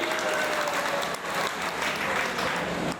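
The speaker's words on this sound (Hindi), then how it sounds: "तालियां कम हैं थोड़ी।" Steady audience applause at a Hindi comedy poetry (hasya kavi) gathering, dense and continuous clapping from a large crowd filling the whole stretch at close, even loudness.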